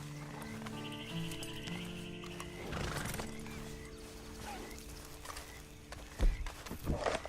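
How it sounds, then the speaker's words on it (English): A horse whinnies amid a soft musical backdrop in Red Dead Redemption 2 Online, followed by a few hoof clops and thuds toward the end, fairly quiet and slightly distant. "Then you better get on this horse."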